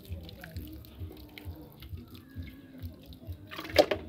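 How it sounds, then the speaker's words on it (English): A simple watering can pours water onto soil in a planting sack for cauliflower seeds: a soft, steady trickle and patter, faint and close, with a brief louder splash near the end. "This is a simple watering can that I prepared."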